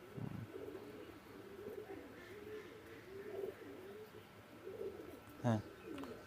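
A pair of Pakistani Teddy pigeons of an Oman bloodline coo in low, rolling calls, repeated in soft bursts at moderate distance, with a brief sharper sound near the end.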